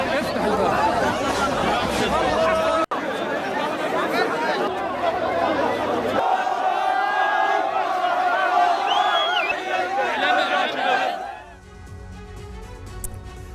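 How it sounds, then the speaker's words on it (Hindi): A large crowd gathers at a hostage release in Israel and Palestine, with dense chatter, shouts and whoops from many voices. The noise stays loud and continuous, then drops off abruptly near the end. "लोगों की भारी भीड़ देखी गई"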